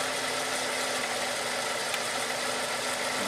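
Toyota Tarago van engine idling with its cooling fans running constantly after a throttle body cleaning, heard as a steady, close, even hum and whir holding throughout without talking.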